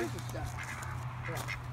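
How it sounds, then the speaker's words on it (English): Ducks quacking and chattering at a vineyard on Salt Spring Island, British Columbia, with a few short calls heard faintly over a steady low hum and people talking nearby. "Here's a couple of running ducks, but they're not running."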